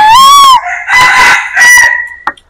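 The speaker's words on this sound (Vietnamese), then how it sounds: "Lâu lâu có kêu bắt con Phương bắt gà" Rooster crowing loudly at close range on a farm, one long harmonic call followed by shorter crows and clucks from chickens, with brief gaps between bursts.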